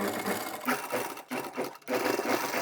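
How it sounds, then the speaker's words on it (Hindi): A sewing machine runs stitches along two fabric side strips of a small child's party-wear lehenga choli, whirring steadily in close bursts with two short pauses. "यहाँ पर सिलाई लगाएंगे दोनों ही पट्टियों में"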